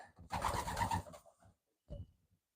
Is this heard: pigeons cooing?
yes